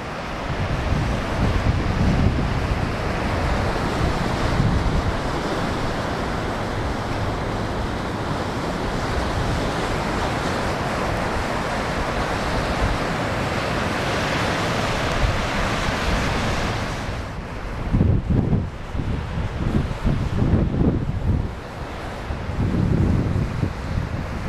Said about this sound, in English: So the surf is looking pretty good, probably about chest high on the best sets.